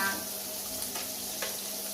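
Masala frying in a pan gives a continuous hiss and sizzle, close and steady, with a few soft stirring scrapes over the two seconds.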